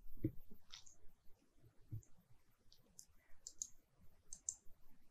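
A computer mouse button clicks during software work, a few faint, crisp isolated clicks over a quiet room background.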